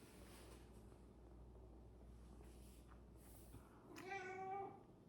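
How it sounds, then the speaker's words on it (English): A cat meows once near the end, a drawn-out mew over a steady low background hum. "You can hear my cat."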